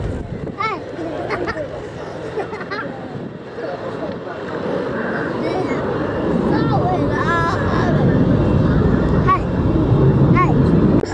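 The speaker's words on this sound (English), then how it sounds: "F-35B coming in for a low approach into the hover, showing us the capability of that extraordinary Rolls-Royce lift fan component" An F-35B hovers low on its Rolls-Royce lift fan at an airshow, a loud sustained jet roar that swells steadily, with a commentator talking over it throughout.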